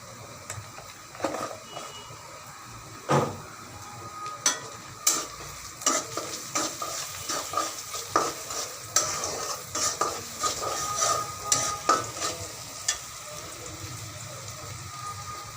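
Chopped onions frying and being stirred in a pan for fish-head muri ghonto, with a steady sizzle under repeated scraping and clinking taps of a spatula against the pan.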